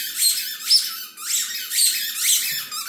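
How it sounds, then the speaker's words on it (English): A squeaky toy squeaks again and again in short, bright bursts, several squeezes in an uneven rhythm, loud and close with nothing else heard. "So now we're going to squeak away."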